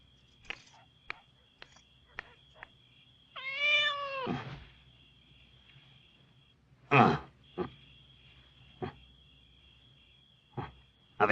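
A cat gives one clear, drawn-out meow, followed later by a few short sharp knocks and clicks, with a faint steady whine in the background and no voices.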